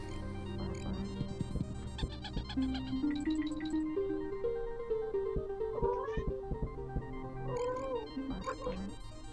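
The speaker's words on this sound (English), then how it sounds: "sorry, my cat's hungry" A hungry house cat meows a few times close by, its cries mixed into busy background music and game sounds of a speedrun stream.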